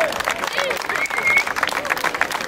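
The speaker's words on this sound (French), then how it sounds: "Allez, applaudissements pour l'ensemble des participants." Crowd applause and cheering for participants at a sports league challenge event, with clapping and excited voices mixed with shouts and babble, lively and close.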